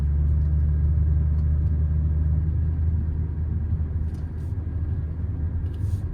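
Inside the cabin of a 1995 BMW 840ci E31, the engine drones in a deep, steady rumble while driving, loud and constant with a slight dip partway through and no talk.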